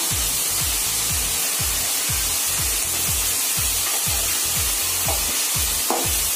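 Tomatoes with salt sizzling and frying in a pan while being stirred, a steady loud hiss under a regular rhythm of scraping spoon strokes, close up.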